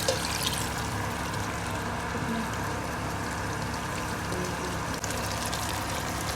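Water pours steadily into a pot of aloo gosht, a constant close splashing gush that runs unbroken for several seconds without talk.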